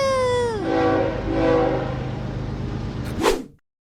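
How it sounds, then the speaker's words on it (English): A cartoon-style train sound effect opens with a long, loud horn blast that bends downward, then a steady rumbling rolling noise and a final sharp hiss before it cuts to silence. "Yeah! Choo-choo!"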